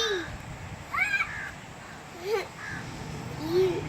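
Crow perched in a tree during monsoon-season weather, giving several drawn-out caws spaced a second or so apart over a steady noisy background, moderately near.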